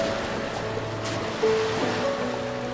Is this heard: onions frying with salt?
no